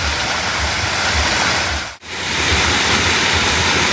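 Parayaruvi waterfall pours in a steady, loud broadband rush of falling water that fills the whole span, with a brief dip partway through before the roar resumes unchanged.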